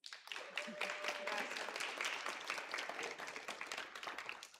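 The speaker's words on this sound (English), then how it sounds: "let's do first a round of applause, please" Steady applause from a crowd at a 1 Million Cups meeting in Brownsville, Texas, dense clapping filling the room for several seconds with a faint voice underneath.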